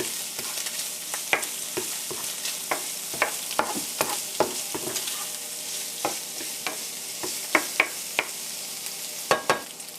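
Garlic and onion stir-fried in a pan, a steady close hiss punctuated by sharp, irregular scrapes and clacks of the utensil.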